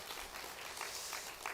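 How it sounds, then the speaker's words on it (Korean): A church congregation gives a brief round of faint, even applause, a short burst of scattered clapping heard from some distance. "여러분 박수 한번."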